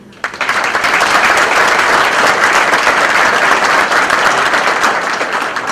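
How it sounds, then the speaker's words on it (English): Dinner dance audience applauding award recipients, a loud, dense burst of clapping from a roomful of people that starts suddenly and carries on steadily at close range. "Round of applause for them."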